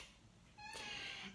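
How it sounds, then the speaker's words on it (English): A house cat gives a single short meow, close and fairly soft, over a quiet room. "that's my cat."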